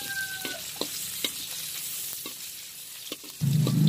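Dried baby squid frying in hot oil gives a faint crackling sizzle with scattered sharp pops and stirring clicks, then a louder burst of bubbling near the end.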